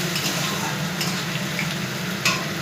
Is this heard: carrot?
yes